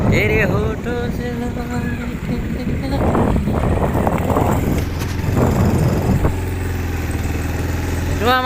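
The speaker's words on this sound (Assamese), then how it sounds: "আমাৰ ড্ৰাইভাৰ বাইক চলাই আছে" A motorbike engine drones steadily while being ridden, with wind rush over it and music playing along with the engine noise.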